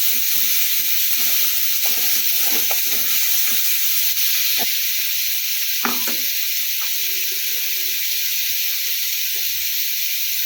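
Onion-garlic paste fries in a pan for Bengali masala baingan, making a loud, steady hiss close by. Light stirring clacks sound throughout, with one sharper knock midway.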